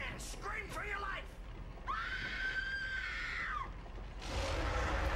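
Woman's scream from the Peter Jackson's King Kong video game, a sustained high wail held for about two seconds between other game noises, with rougher bursts before and after.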